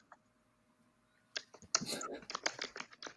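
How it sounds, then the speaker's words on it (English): Loud clicky computer keyboard typing, starting after a quiet pause as a rapid, close run of sharp clacks and key presses, with a voice chatting over it. "your keyboard is loud"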